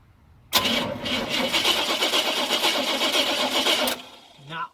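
Starter cranking on a 1964 Chevy C10 pickup engine that has no spark: a loud, rhythmic churning that runs for about three and a half seconds without catching, then stops abruptly, followed by a brief low sound.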